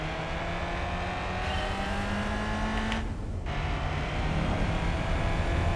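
Big Mercedes V8 engine in the Gran Turismo 4 racing game drones loud and steady throughout, with a brief dip in tone partway through as the car is pushed hard through a curve.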